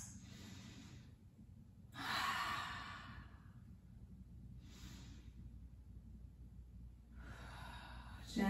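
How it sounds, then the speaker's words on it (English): Slow, deep yoga breaths come through close and soft, long airy exhales and inhales alternating at a relaxed pace with quiet pauses between them. "2 more deep breaths."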